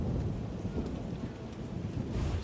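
Steady heavy rain pours in The Witcher, a dense, even hiss with a deep low rumble underneath, continuous and fairly loud with no talk.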